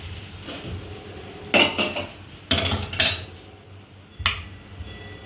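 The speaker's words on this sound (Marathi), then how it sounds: "याला मिक्स करून घेते." Spoon scraping and clinking in a bowl while yogurt is mixed in an Indian kitchen, several sharp metallic chinks in short bursts over a quiet background.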